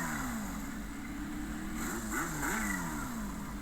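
An engine revs up and down, its pitch rising and falling in quick sweeps, heard at a moderate distance with steady background hum and no talk.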